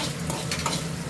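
Dried red chillies crackle and sizzle in hot oil as a tempering for quick upma, a short burst of loud, dense frying with stirring scrapes and no voices.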